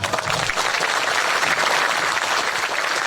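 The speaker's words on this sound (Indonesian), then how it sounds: "beri tepuk tangan buat beliau" Applause for an ustaz at a pesantren Q&A gathering: a steady, dense wash of clapping from a crowd, loud and sustained throughout, with no voices standing out.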